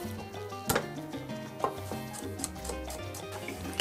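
A knife taps against a cutting board in scattered, irregular chops through an onion, fairly quiet, with faint kitchen clatter and no talking.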